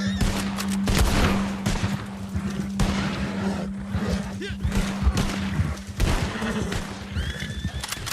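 Gunfire in Red Dead Redemption 2 Online, a rapid volley of sharp shots crackling over a busy game mix with horse whinnies and hoofbeats, loud and close, with a steady hum underneath.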